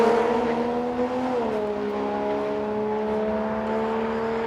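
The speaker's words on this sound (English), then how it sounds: "Bit of wheel spin too as he goes down the track." Ford Falcon drag car launching down the strip at a test and tune day at Heathcote Park, with wheel spin: a sustained loud engine drone that dips in pitch as it shifts, heard from a distance without talk.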